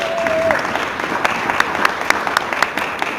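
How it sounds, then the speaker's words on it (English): A room full of conference attendees at a TESOL 2026 presentation applauds the speakers. The clapping is even and sustained, with a few crisp nearby claps, and a brief tone sounds at the start. "I think we can give them a round of applause"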